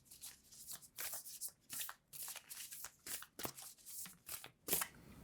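Tarot cards shuffled by hand in a steady repeating rhythm of soft riffling bursts, about ten pulses spaced under a second apart, quiet and close with no speech.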